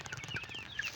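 Chickens cluck softly nearby in short, high calls scattered over about a second, faint and close.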